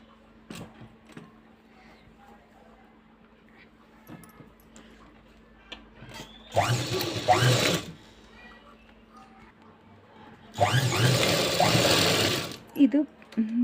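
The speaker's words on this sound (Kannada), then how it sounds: "ಈ ಥ್ರೆಡ್ ಪೈಪಿಂಗ್ ಮಾಡಿದ ಮೇಲೆ ಇದ್ರ ಮೇಲೆ ಒಂದು ಟಾಪ್ ಸ್ಟಿಚ್ ಹಾಕ್ಕೋಬೇಕು" A sewing machine top-stitching a blouse beside its thread piping runs in two short, loud bursts of rapid, buzzing stitching, separated by quiet handling and soft clicks.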